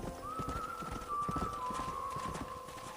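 Horse hooves clip-clop in steady quick rhythm in Red Dead Redemption, moderately close, with a sustained whistle-like tone running above them and no one speaking.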